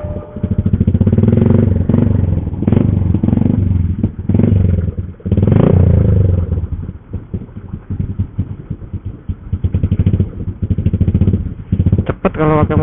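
Motorcycle riding through busy city traffic in Semarang, Indonesia, its engine running steadily and loud up close with surges and clattering, while a rider talks over it throughout.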